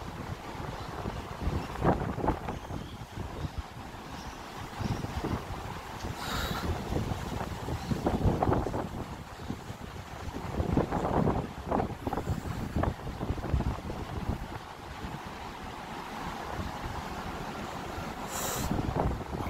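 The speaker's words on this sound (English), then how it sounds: "It's windy as you can see the phone just shaking a bit." Strong wind buffets a phone microphone on a resort balcony before a heavy rainstorm, a loud, continuous rumbling roar with surging gusts and occasional rattles throughout.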